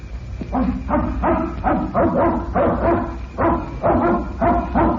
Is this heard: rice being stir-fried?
no